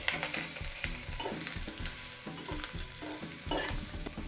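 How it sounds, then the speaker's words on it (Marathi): Ground corn is stir-fried in a crackling cumin tempering for corn rice cutlets. Rhythmic spoon scrapes and stirring strokes sound repeatedly over a constant close sizzle, with no speech. "आता त्याच्यामध्ये आपण हे वाटलेलं मक्याचं टाकून घ्यायचं आणि थोडंसं याला परतून घेऊ."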